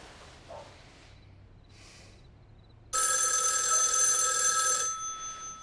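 An electronic telephone bell rings in one sustained burst for about two seconds, loud and clear after a quiet stretch, then fades.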